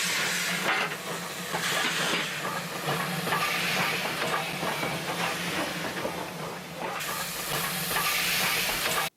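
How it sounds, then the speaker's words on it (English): A New Zealand C-class steam locomotive chuffs and hisses steadily as it pulls away with a period goods train, with a continuous loud rumble of rolling wagons throughout. "A period goods train now sets off with the C-Class."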